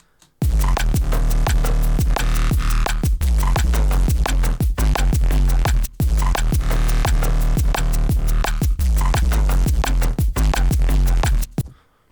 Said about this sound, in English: It's just drums, percussion, and the bass riff.